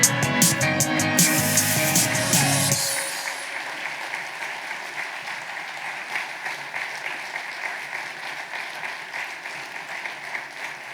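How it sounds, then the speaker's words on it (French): An audience at a municipal New Year's greetings ceremony in Cusset applauds at length; a loud opening burst with music quickly gives way to sustained, even clapping from a large hall crowd. "Vous pouvez encore applaudir"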